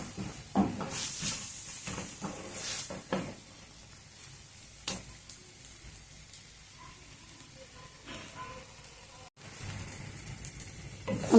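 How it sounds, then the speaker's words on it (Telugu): Cashew nut powder sizzles and crackles as it is stir-fried with palak and methi greens in a pan for palak methi malai paneer, a steady close frying hiss with intermittent spatula scrapes and stirring clatter, no talking. "అందుకోసమని కొంచెం దీంట్లోనే కొద్దిగా వేగనిద్దాము."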